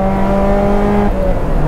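A Lotus Elise Cup 260 race car engine hums loudly and steadily from close range on a circuit, its tone holding then shifting slightly as it warms its tyres.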